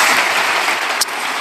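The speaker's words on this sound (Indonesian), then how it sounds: "Berikan tepuk tangan kita untuk Tuhan kita." A church congregation at an Indonesian sermon breaks into loud, dense clapping, a bright crackling wash of many hands with one sharper burst partway through.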